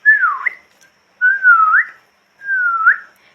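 A person whistles the way cattle herders do to calm a cow, producing three separate, clear, drawn-out whistles. Each one dips and then flicks upward at the end, with short pauses between them and no other sound.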